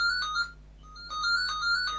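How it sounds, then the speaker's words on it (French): A phone ringtone sounds in a waiting room, its electronic melodic chime repeating in two clear bursts with a short gap, steady and fairly loud over a faint background hum. "Les sonneries de téléphone dans les salles d'attente,"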